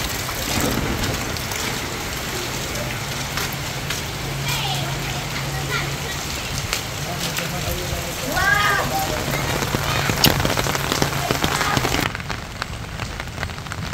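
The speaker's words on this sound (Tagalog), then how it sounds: "bagyo ngayon itong araw na ito" Heavy storm rain pours steadily onto surfaces in Pangasinan, a dense continuous hiss, with brief faint voices and a few scattered clatters.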